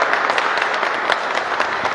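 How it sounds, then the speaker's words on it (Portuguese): A church congregation applauds a family during Sunday Mass, dense steady clapping filling the room throughout. "Vamos dar um salve de palmas para a família."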